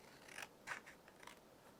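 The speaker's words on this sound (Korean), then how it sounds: "이 2장을 겹쳐서 1cm 간격으로 잘라보겠습니다" Scissors cut through two stacked sheets of colored paper in 1 cm strips, giving a few crisp, quiet snips spaced about half a second apart with nothing else around them.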